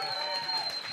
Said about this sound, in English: Please don't be done clapping.